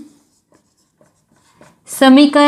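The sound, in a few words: writing math equations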